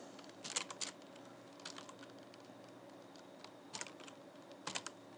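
Short bursts of keystrokes on a computer keyboard while an SQL query is typed, clustered in a few quick flurries separated by pauses, faint and close against a low steady room hiss.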